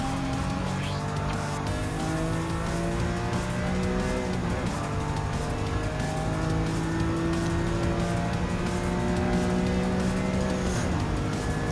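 Race cars, including a Lancia Delta and a BMW M3, in the Gran Turismo 7 video game: several engines drone and rise in pitch together through gear changes, steady and loud with faint tire noise.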